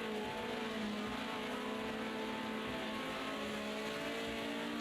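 BMW 2002 race car engine droning loud and continuous at Oulton Park, a steady layered tone with no clear let-up or pass-by across the whole stretch.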